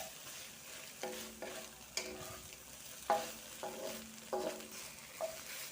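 Long eggplant with beaten egg stir-fried in a pan, a low sizzle broken by about six distinct scraping strokes of a spatula at a loose, unhurried pace.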